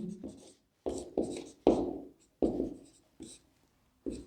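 Chalk or marker strokes on a classroom board, a run of short, distinct scratchy bursts separated by brief pauses, close and clear with no talking.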